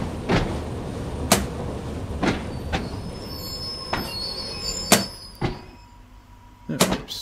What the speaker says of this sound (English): Opening the left side doors this time.